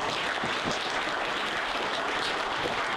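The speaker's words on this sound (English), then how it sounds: "So round of applause for everyone." Audience applause at a community wildfire preparedness day, heard as dense, steady crowd clapping that holds evenly for the full three seconds with no talking over it.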